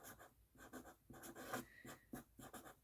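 A bright pink pen writing on paper for revision notes, with quiet close scratchy strokes coming in short rhythmic bursts and brief pauses between them.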